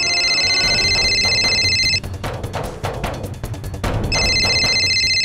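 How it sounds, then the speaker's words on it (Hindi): A telephone rings in loud, repeated electronic trills, two long bursts separated by a gap filled with clattering background noise. "कौन सा फोन बज रहा है?"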